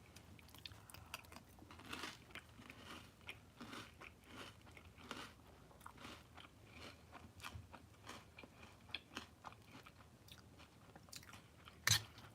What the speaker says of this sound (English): It's good when it's crunchy. When it gets soggy, not that good, the cereal.